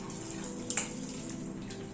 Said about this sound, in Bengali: চিকেনটা কুক হতে হতে ব্রাউন রাইসটা আমি এখানে একটা স্ট্রেনারের মধ্যে ঢেলে দিচ্ছি